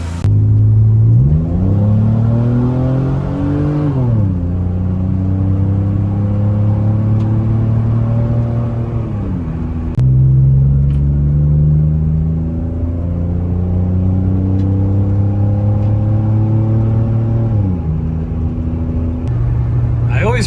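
A Mitsubishi 6G72 V6 in a Diamond Star Dodge with fresh valve cover gaskets and exhaust work drones loudly up close on a test drive, rising and falling through several gear pulls with shifts between them.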